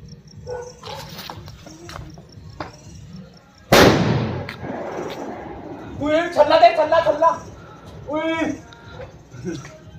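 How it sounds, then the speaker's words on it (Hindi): A single loud firecracker bomb bursts at a wedding celebration, one sharp blast midway followed by a decaying rumble, with people talking and shouting before and after. "प्रधान जी की शादी के पटाखे फोड़ दिए मैंने, पटाखा नहीं बम फोड़ा बम।"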